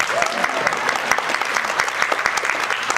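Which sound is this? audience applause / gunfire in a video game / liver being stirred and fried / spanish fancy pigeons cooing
audience applause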